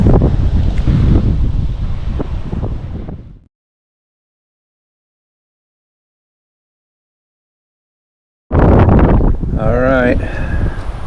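Wind gusts buffet the microphone beside a fishing pond as a loud rushing roar, then cut out into silence. The gusts return under a voice as he speaks.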